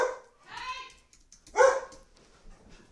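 Pet dogs bark indoors at neighbors working outside, two or three sharp barks spaced apart, moderately close and fairly faint.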